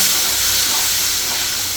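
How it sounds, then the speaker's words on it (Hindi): Boiled gatte water poured into hot roasted masala in a pan sets off a loud, close, continuous sizzling hiss of steam with no talking. "अब हम ये डालेंगे उबले हुए गट्टे का हमारा पानी"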